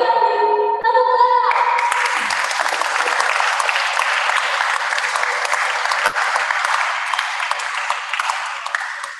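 A large audience at a school graduation and farewell ceremony breaks into sustained, dense applause that fills the room evenly after a brief spoken introduction, fading slightly toward the end.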